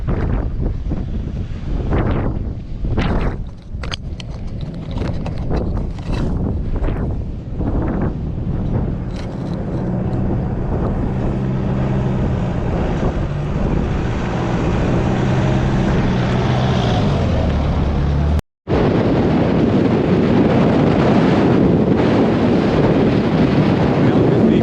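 Gusty wind buffets an outdoor microphone on a hillside track at Weipa, Cape York, roaring steadily with bursts and a brief dropout, while a vehicle engine hums underneath.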